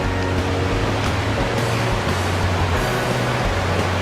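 A waterfall seen from above roars in a dense, unbroken rush of falling water, loud and steady throughout with no voices.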